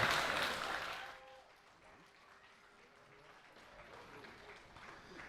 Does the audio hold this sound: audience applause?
yes